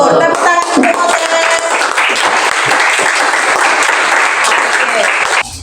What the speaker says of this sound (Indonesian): Tepuk tangan untuk Moses.